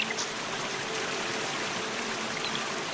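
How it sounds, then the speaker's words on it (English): A forest creek bubbling and trickling in a continuous, fairly soft wash of water noise that stays even throughout, with no other distinct sounds on top. "A creek bubbling somewhere off to your right."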